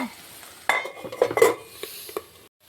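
Broad beans (chikkudukai) fry in a pan while a utensil stirs them, giving a series of scraping clinks and knocks over a low, faint sizzle, close up, with no talking.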